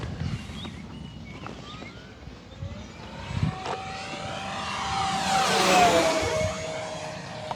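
An E-flite P-47 Razorback V2 radio-controlled model airplane flies a pass outdoors in wind, its electric motor whine rising as it approaches, peaking loudly with a falling Doppler sweep, then fading.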